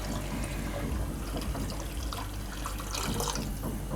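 Water pours steadily into a cooking pot while making Gujarati rasiya muthiya, a continuous close rushing splash that holds even for about four seconds with no talking.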